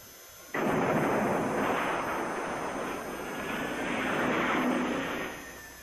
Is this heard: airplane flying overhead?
yes